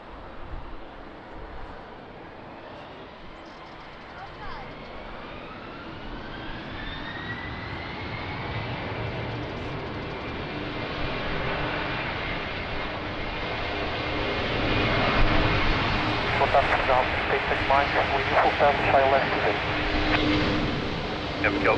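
A jet airliner takes off at Lisbon Airport in a strong crosswind, its engine roar swelling steadily from a distant rumble into a loud, sustained rush with a rising whine, over faint background noise.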